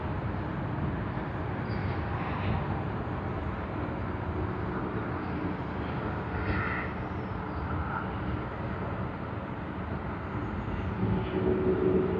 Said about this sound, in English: LA809 from Santiago, Chile, on the Boeing 787-9 Dreamliner